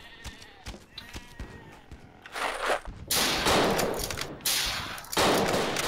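Gunfire from a German sniper rifle in a video game: sharp cracks at first, then louder, denser bursts of shots crowding together toward the end.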